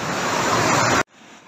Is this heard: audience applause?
no